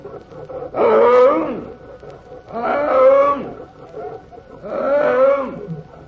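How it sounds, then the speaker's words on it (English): Three loud, close tiger roars in a radio drama, each a rising-and-falling growling bellow about a second long, evenly spaced with short pauses between them. "Hear my hunger cry? My tiger hunger cry?"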